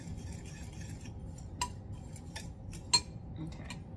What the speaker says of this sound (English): I'm going to just kind of stir this around, get it kind of incorporated with the oats.